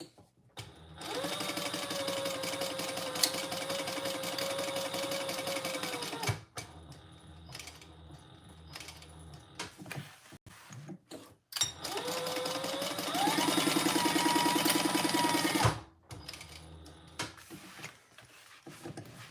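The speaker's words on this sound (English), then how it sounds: "we're going to stitch around the pocket piece at a seam allowance in the pattern" Sewing machine stitching around a foam pocket piece for a pouch, running in two long steady bursts with a pause between, close and fairly loud, with no talk over it.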